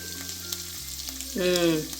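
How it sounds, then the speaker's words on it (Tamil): Oil sizzles steadily in a pan, with a brief louder hiss and scraping as the contents are stirred near the end. "நல்லா சூப்பராக ஃப்ரை ஆயிடுச்சா? நல்லா பெரட்டி விடுங்க."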